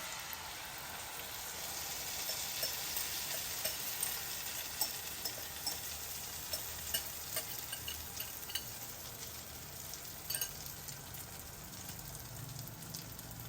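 Cheese omelette egg mixture hits hot, nearly burning butter in a pan, giving a steady, fairly quiet sizzle with faint crackles throughout; no one speaks.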